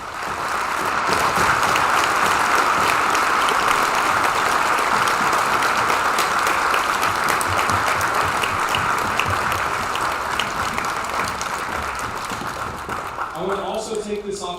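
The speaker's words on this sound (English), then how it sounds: "I want to take a special moment to give our thanks and gratitude with applause." Sustained applause from a concert audience honoring veterans at a Veterans Day event, a dense, even wash of clapping lasting over ten seconds before fading as a speaker's voice returns.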